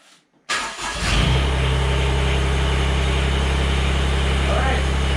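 A Mahindra eMax 20s HST compact tractor with a snowblower fitted: a brief quiet, then the engine cranks and catches, roars up, and settles into a loud, steady, close running drone.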